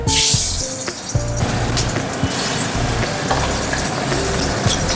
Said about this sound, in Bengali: তেলটা গরম হয়ে গেছে, এবার মাছগুলো দিয়ে ভেজে নিই।